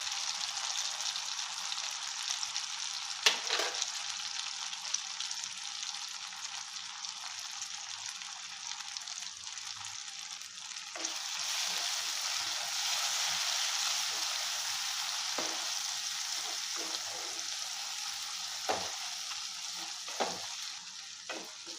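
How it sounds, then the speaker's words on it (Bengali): Spice paste sizzles steadily in a hot pan for a meat and potato curry, with a spoon scraping and stirring through it in repeated strokes, close and continuous. "আমার মশলাটা ভাজা হয়ে এসছে"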